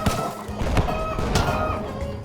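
Chickens cluck and squawk in a Turkish party video game about catching chickens and throwing them, dense and busy with thumps and game noise layered over the fowl calls.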